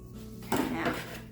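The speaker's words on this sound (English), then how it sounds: "I'm gonna kind of mix around this cement. The sand that I have in here with my tool." Cement and sand stirred with a tool inside a pot on a tabletop for a homemade planter, a brief gritty scrape that rises suddenly and continues steadily, close and fairly loud, with no talking.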